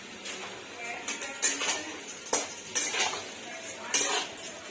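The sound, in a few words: dried mango pieces put into a wok and stirred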